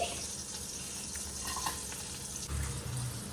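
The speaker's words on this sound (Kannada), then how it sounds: "ಬಟರ್ ಮೆಲ್ಟ್ ಆಗ್ತಿದ್ದಂಗೆ ನಾವಿಷ್ಟು ಕಟ್ ಮಾಡಿರೋ ಐಟಮ್ಸ್ನೆಲ್ಲ ಹಾಕ್ಬೇಕು 1 by 1. ಫಸ್ಟ್ ಈರುಳ್ಳಿ ಹಾಕೊಳ್ಳಿ." Chopped onions sizzling in melted butter in a pan, a steady close frying hiss with occasional stirring scrapes, no talk.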